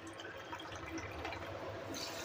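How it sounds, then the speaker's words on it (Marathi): Water poured into sugar in a kadhai to make syrup for sooji gulab jamun, a close, continuous splashing pour lasting about two seconds with no talk. "आता त्याच्यात आपल्याला पाणी टाकून घ्यायचं आहे"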